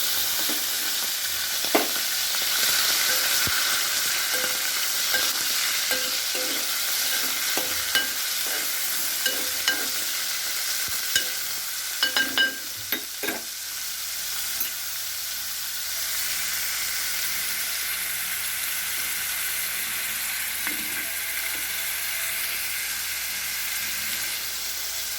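Raw prawns frying in oil and being stirred in a pan, a long steady hiss of sizzling with scattered spatula scrapes and taps, some brief bursts in the middle, close and without talk.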